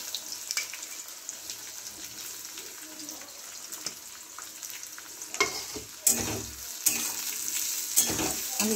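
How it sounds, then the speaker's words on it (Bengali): Finely chopped onions sizzling and being stirred in a pan over medium heat, a close, steady frying hiss with scraping stirs that grow louder toward the end. "কুচিয়ে একদম সরু সরু করে কুচিয়ে দিয়েছি। এটাকেও লাল লাল করে ভেজে নেব।"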